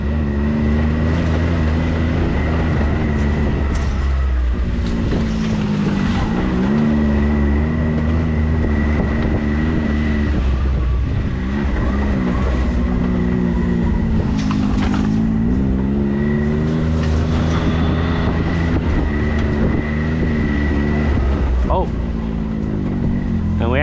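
Can-Am Maverick X3 Turbo side-by-side driving around an overgrown MX dirt track, its engine droning loudly and steadily with shifting pitch and wind buffeting throughout, while someone talks over it.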